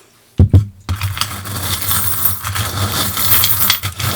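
Small charms are pulled and dropped onto a surface for a reading, giving a close clatter of hard metallic-sounding pieces tumbling and jingling, then a steady rustle and shuffle.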